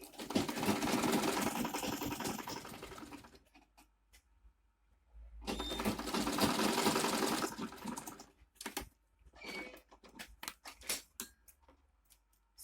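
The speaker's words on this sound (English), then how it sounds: "Then you sew it all the way down." Sewing machine stitching fabric right sides together for a small bag, two bursts of fast continuous running separated by a pause, followed by scattered clicks and handling sounds, close by.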